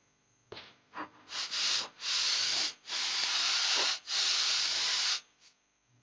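Brake parts cleaner aerosol sprayed onto the cylinder head of a 1992-95 Honda Civic engine comes in several close, loud hissing bursts, short at first and then longer sustained sprays, with brief gaps between them.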